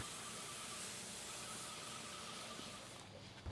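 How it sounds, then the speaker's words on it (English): A spray gun applies tinted concrete sealer with a steady, faint, breathy hiss that runs almost the entire time and drops away near the end. "That's the tinted sealer that's going on right now. See how he rotates his wrist as he sprays?"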